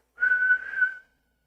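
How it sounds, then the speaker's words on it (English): A person whistles one steady, fairly loud note for about a second, close up and alone, then stops. "That's the best I actually can whistle."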